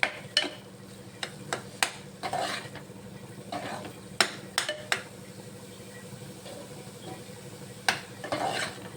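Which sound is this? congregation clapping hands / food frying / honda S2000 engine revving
food frying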